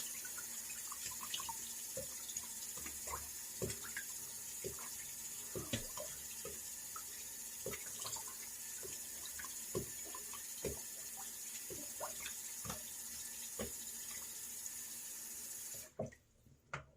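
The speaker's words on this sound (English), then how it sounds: "All right, got the hot water on." Hot water runs steadily from a tap into a sink, a continuous splashing rush with small knocks, cutting off near the end.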